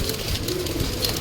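Pigeons coo softly in a short burst, low murmuring calls close by against a noisy background, with no speech.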